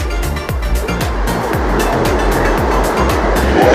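Water rushes over a hidden forest waterfall in a steady, loud roar that holds throughout, with a regular low thumping pulse running beneath it.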